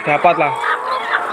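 Hens on a poultry farm of some 480 laying birds cluck and squawk in the background, steady and mid-distance, beneath someone talking throughout.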